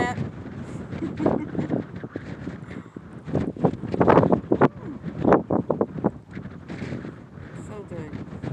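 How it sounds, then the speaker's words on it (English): Strong outdoor wind rushes and buffets the microphone in steady roaring gusts, with voices talking faintly underneath. "Awesome wind."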